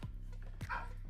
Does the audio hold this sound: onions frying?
no